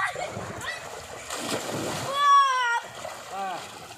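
A child jumps into a swimming pool with a sharp, close splash of water, surrounded by excited children's voices chattering before and after.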